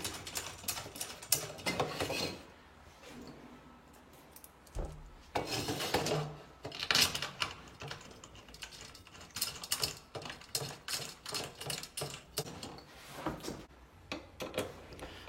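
Screws are driven through a boiler mounting template into plasterboard fitted with molly anchors, producing bursts of ratcheting, clicking tool noise and metallic handling sounds with pauses between, fairly close but quiet overall.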